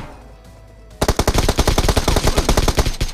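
A burst of rapid automatic gunfire in the PUBG Mobile game starts after a second of quiet, close and loud, firing in a fast regular rhythm through to the end with no talk.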